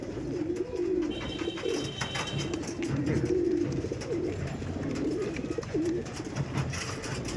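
Tournament-quality pigeons kept for sale coo repeatedly in soft, rolling low calls close by, with faint clicks and rustling in the background and no talking.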